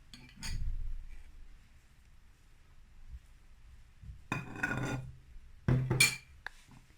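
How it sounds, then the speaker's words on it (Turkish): A spoon scrapes and clinks against a bowl while cake mixture for a no-bake Coco Star cake is stirred, with two or three close bursts of scraping and rattling separated by quiet pauses. "Karışımın hepsini döktüm. Şimdi iyice karıştırıyorum."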